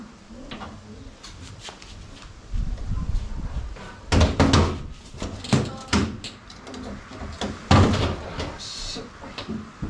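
Door banging and knocking as someone struggles to get through, with thumps and clatters scattered over several seconds amid background noise and brief voice sounds.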